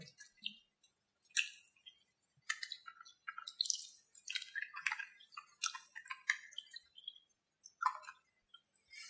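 Soapy hands lathered with African black soap being rinsed under running water, a close, wet stream of small splashes, drips and squishing sounds in irregular bursts, with no voices.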